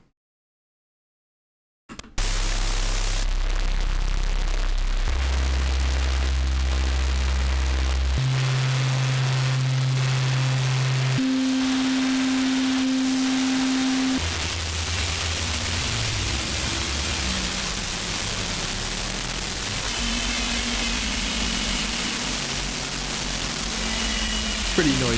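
After a brief silence, loud crackling noise from databent audio sets in, with steady synth tones stepping between low pitches buried beneath the hiss.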